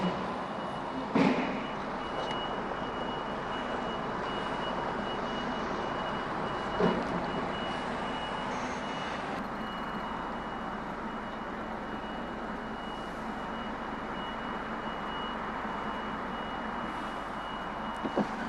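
A steady high-pitched reversing beep from a heavy goods truck repeats at a loading bay over a constant rumble of idling engines, with a couple of brief clunks in the background.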